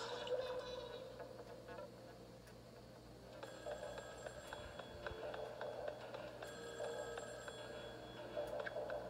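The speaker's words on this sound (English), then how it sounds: "Ringing phone." In Splatoon 2, a telephone rings with a faint, repeated electronic trill over quiet ambient game music and low hum, thin and distant.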